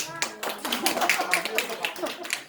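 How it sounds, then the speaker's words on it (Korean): Students at a church youth service clap at a teacher's request, a steady patter of hand claps for the whole stretch with voices mixed in. "박수 한번 주세요."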